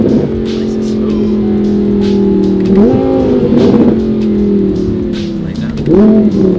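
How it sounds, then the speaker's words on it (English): A twin-turbo Audi R8 with rolling anti-lag shifting through gears in manual mode, engine drone under load with pitch steps at each shift and short rising blips on the downshifts, heard from inside with someone talking over it. "put it in manual mode and kind of go through the gears a little bit. Pay attention to the downshift."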